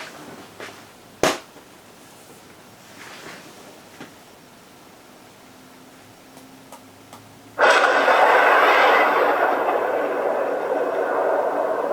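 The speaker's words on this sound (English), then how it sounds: "The explosion." The explosion in the official Oppenheimer film trailer begins after a quiet stretch with scattered faint clicks as a sudden loud, sustained roar that fills the rest of the clip.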